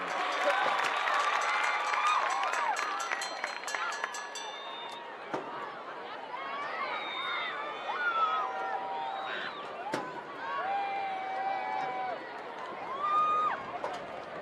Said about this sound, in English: make some noise for the combined drill teams of Bear River and Box Elder